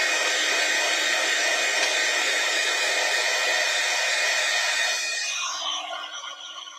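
Close, steady whooshing roar of a craft heat tool heat-setting an embossed card sentiment, holding constant for about five seconds before fading away as it shuts off, no talking.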